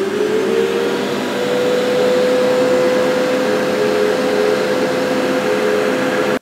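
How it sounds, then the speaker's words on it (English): A Festool dust extractor runs at half power, a steady, close whine with a constant motor tone throughout and no change in pitch or level. "and that's the Festool extractor on its own."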